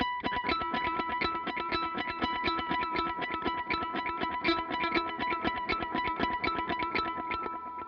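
Electric guitar picking a rapid, galloping pattern with repeating dotted-eighth delay echoes from a Memory Man pedal, steady and continuous with a slightly gritty tone.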